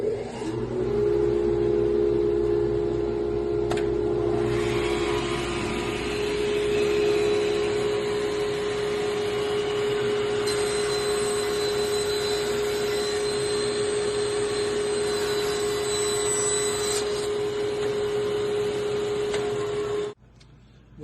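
Woodshop dust collection system running alongside a table saw, a loud steady whooshing drone with a strong sustained hum that holds level for about twenty seconds and cuts off abruptly near the end.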